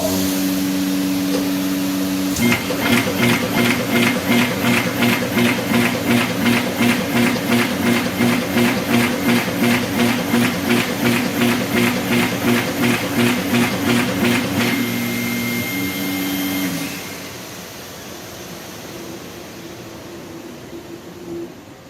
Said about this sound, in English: Or now we test, for example, to fold the sheets in the middle.